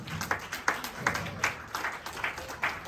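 Audience clapping at a humorous speech contest, a patchy scattering of claps in uneven bursts, fairly faint and thin as if from a small crowd.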